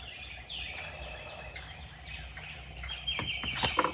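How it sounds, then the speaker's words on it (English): Morning birds chirp and call outdoors, a mix of faint scattered tweets and warbles that grow busier, with a couple of louder, sharper calls near the end, no talking. "There's lots of birds this morning and they're talking."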